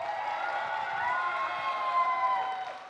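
Live crowd at a Major League Table Tennis regular-season match in New Jersey, a steady wash of cheering and whooping that stays loud throughout, with no clear words standing out.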